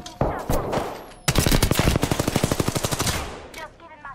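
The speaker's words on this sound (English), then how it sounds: "Getting shot at." Automatic weapon fire in a video game shooter rattles in rapid, loud bursts at close range, with a sustained volley in the middle and a few shorter bursts around it.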